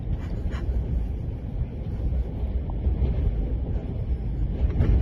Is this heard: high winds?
yes